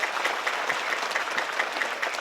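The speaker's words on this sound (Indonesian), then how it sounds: "Tepuk tangan dulu sepindah maneh dong" Audience applause at a Javanese-language stage event with a strong sound system, steady dense clapping filling the room throughout without pause.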